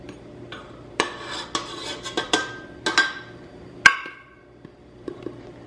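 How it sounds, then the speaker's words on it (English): Bread hook being fitted onto a stand mixer, a series of sharp metallic clacks and rattles of varying loudness close by, followed by quieter taps, with no talking. "So I'm going to put the bread hook on now."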